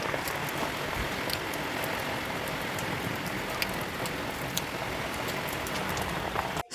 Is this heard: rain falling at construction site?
yes